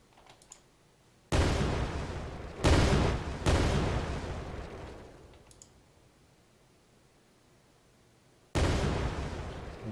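Sharp explosion bursts in a video game physics test with destructible foliage, three blasts in quick succession, then a fourth after a quiet gap, each loud and close with a decaying rumble tail.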